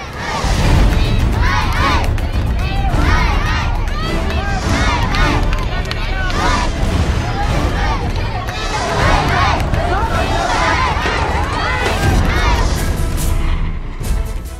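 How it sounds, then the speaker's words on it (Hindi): An angry crowd in uproar, a dense, loud roar of many shouting voices and babble that stays intense and chaotic for about fifteen seconds. "भीड़ का हल्ला बोल।"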